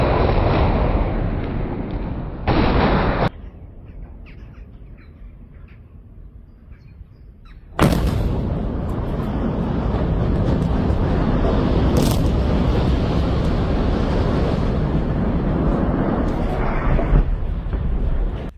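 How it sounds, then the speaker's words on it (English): A loud, sudden boom erupts after a quieter stretch, followed by a sustained heavy rumbling roar that continues for many seconds as a massive explosion brings down a steel structure. "A massive explosion brought down a steel structure like a collapsing beast"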